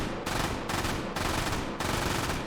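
Loud, ripping bursts from an MG42 firing 8mm Mauser rounds from a drum in H3VR, several long strings of extremely fast shots separated by short pauses, close and unbroken by talk.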